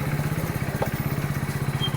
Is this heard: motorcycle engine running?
yes